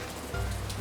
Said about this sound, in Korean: 가랑비 추적추적 내리는 늦가을의 아침.